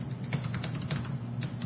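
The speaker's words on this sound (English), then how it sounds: "I'm typing it out now." Steady typing on a computer keyboard, a quick irregular run of light key clicks close to the microphone over a low background hum, with no talking.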